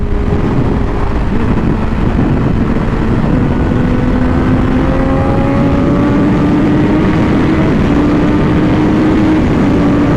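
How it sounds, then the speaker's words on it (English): A Triumph Daytona 675 motorcycle engine droning steadily and loudly while riding, with slowly shifting tonal whine from the engine and drivetrain under constant wind rush; no talking. "But clutchless downshifting, not everyone can do that."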